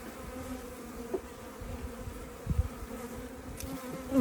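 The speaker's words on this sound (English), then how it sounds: "The bees are climbing onto the branch, and hopefully they'll form a ball" A swarm of honey bees crawls and settles onto a branch, giving a soft, steady buzzing hum close by, with a few brief rustles and knocks and no voices.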